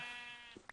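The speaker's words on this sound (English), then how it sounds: "luckily there's a couple sheep right here" A single short sheep bleat from the Minecraft video game, faint and brief, with a couple of small clicks near its end.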